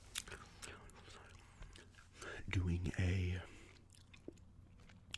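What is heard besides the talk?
gum chewing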